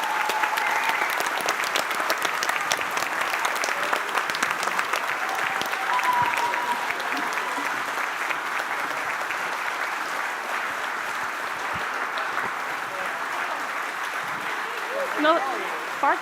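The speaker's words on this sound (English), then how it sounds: "I would like to give one final applause to Ross, Janna, and Inge, and a big applause for Carlijn, Jante, and Femke" A crowd at an exoskeleton unveiling breaks into loud, sustained applause, dense clapping that stays strong for the whole stretch, with faint voices and cheers mixed in near the end.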